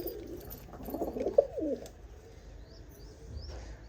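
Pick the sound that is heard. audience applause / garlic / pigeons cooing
pigeons cooing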